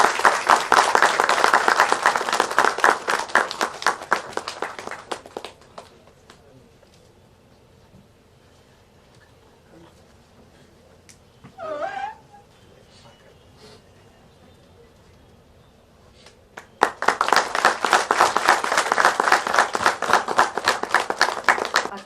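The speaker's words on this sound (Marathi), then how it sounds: "टाळ्या वाजल्याच" Two bursts of lively group clapping at an inauguration ceremony of a structural engineers' association in Pune. There is a quiet gap between them with a brief voice or noise in the middle.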